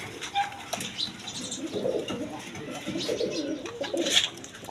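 Pigeons of mixed breeds coo softly and continuously at a wholesale pigeon market, with a few brief chirps and wing flaps over low background murmur.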